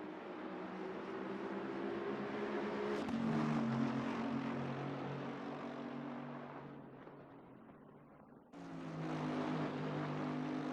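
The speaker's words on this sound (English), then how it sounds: "he just blocks the exit perfectly, parks on the exit and now accelerates hard again." GT3 race cars accelerating hard around Brands Hatch in a racing video game, their engines a steady, loud drone that shifts pitch as they shift gears, dips briefly near the end, then surges back in.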